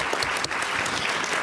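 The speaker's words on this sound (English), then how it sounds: "So if you would give them a round of applause," Dense applause from a crowd fills the whole moment, steady and fairly close, with no voices standing out.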